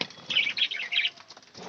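A pet budgerigar flaps its wings in a short, soft flurry of fluttering beats as it flies into a clay nest pot where chicks are kept, heard faintly and close, with no talking.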